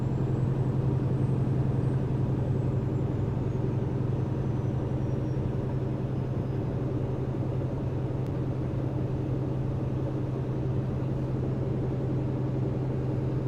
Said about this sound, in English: I'm driving my truck.